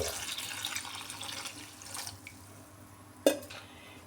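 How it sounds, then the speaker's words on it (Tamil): Water pours into a vessel of plantains, a splashing stream that tapers off into quiet, followed by a sharp clink of the vessel near the end, heard close and alone. "இப்போ அந்த வாழைக்காய் மூழ்கிற அளவுக்கு தண்ணி ஊற்றுறோம்"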